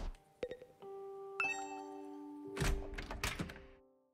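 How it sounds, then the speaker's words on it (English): A door opens in the video game The Hundred Line: Last Defense Academy, with a couple of soft thunks followed by chiming tones and a burst of rustling, clattering movement near the end. "I got to my feet and opened the door."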